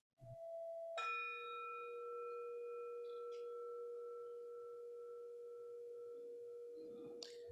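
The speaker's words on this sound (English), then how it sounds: "We ring the gong 3 times." A ceremonial gong struck once, leaving a clear, steady ringing tone that sustains for several seconds with little decay before a soft knock near the end.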